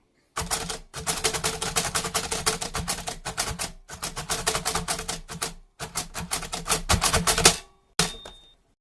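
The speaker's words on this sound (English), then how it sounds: "we're just about ready to start brailing. Move the carriage across to the left, and I'm going to write something" A braille writer is typed on at close range in quick bursts of sharp mechanical key clacks, with short breaks for the carriage and a final ding at the end of a line.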